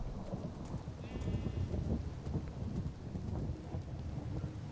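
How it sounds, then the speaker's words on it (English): Hail storm in the Minecraft Localized Weather mod video game: a dense, continuous rush of pelting and rumbling that stays loud through the clip, with thunder-like low swells and no talking. "radar's indicating it might have a hail core in it"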